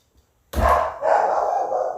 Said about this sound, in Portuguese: Essa cachorra tá latindo tanto.